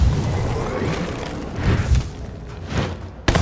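Booming explosions from the fantasy video game Lichdom: Battlemage rumble in a dense, loud wash, with several heavier thumps and a sharp final burst.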